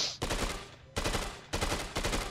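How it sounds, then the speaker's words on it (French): Assault rifle fire in a Star Wars video game: dense bursts of rapid automatic shots in three or four sustained volleys with brief gaps between them, loud and close, and no speech. "j'ai toujours mon fusil d'assaut"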